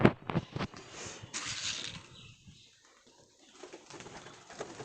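Pet pigeons coo softly at close range, a few low throaty calls in short bursts with quieter gaps between them, and no talk over them.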